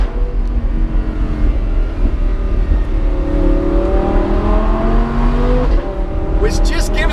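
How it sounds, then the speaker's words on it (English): Lamborghini Huracan Spyder accelerating hard, its engine note climbing in a rising, loud roar heard up close, ending with sharp crackles and pops from the exhaust. "the crackly exhaust"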